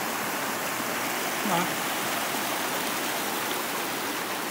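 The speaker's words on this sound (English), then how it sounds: "Sort of a little rill put in with the bulldozer accidentally." A small rill of water, accidentally cut by a bulldozer, runs with a steady close broadband trickle and rush throughout, while a voice briefly speaks a word partway through.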